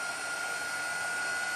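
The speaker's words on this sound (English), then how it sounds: "I'm going to go ahead and use my dryer" A dryer blows steadily on a crafting transfer, a loud continuous whooshing roar with a faint steady whine riding on it and no talking.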